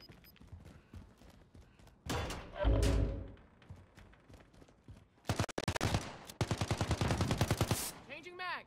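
Gunfire in a survival video game: a heavy burst of shots, then rapid strings of automatic fire in quick rhythmic volleys, fairly loud against quiet game ambience.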